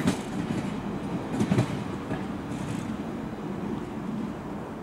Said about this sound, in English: The train now approaching platform 1 is the 10:29 London Overground, service to Euston